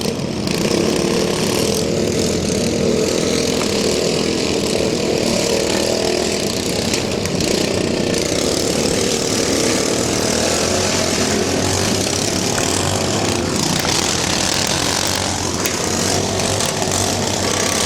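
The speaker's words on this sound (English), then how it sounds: "We are down to 5 lawn mowers running, 5 of them still running" Several lawn mower engines roar together at a demolition derby race, a dense, loud, continuous whine and rumble that barely varies throughout, with no voices heard.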